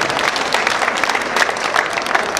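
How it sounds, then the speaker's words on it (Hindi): A crowd at a public rally or political march in Bonas applauds to welcome a guest, with dense, steady clapping filling the whole stretch, loud and close, with no voices over it. "जरा एक बार तालियां बजाकर उनका स्वागत कीजिए।"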